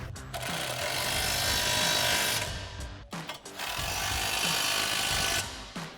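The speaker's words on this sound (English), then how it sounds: "we'll go ahead and tighten those down with our 18mm socket on our impact and an 18mm wrench." A power tool whirs in two long, loud bursts, consistent with an impact wrench and 18mm socket tightening front bumper bolts on a 2010-2018 RAM 2500. A short pause separates the two runs.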